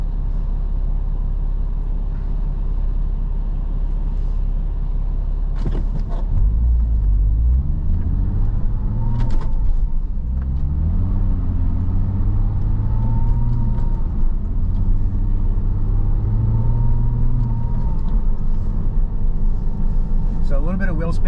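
A Porsche Cayman on Bridgestone Blizzak WS-90 winter tyres accelerates through four gears on a snowy road, its engine rumbling steadily from inside the car with rising and falling pitch as it shifts, and a voice talking over it.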